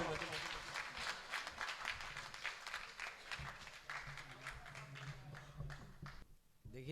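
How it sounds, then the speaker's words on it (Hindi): Applause at a mushaira as an audience welcomes a poet: scattered, uneven clapping with crowd noise, fairly faint, thinning out near the end. "जोरदार तालियों से इस्तकबाल के मोहतरम आदिल।"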